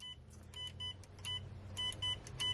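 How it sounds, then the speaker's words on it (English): A series of quick, high-pitched electronic beeps from an RC radio transmitter for an FMS FCX10 K5 Blazer crawler, in short irregular bursts, faint against a quiet background hum. "Okay, channel 10 beeps as well."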